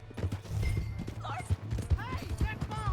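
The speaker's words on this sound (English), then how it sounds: "Hey, that's my horse!" Horse hooves clip-clop in rapid galloping rhythm in the Red Dead Redemption II video game, steady and close under music and a voice speaking.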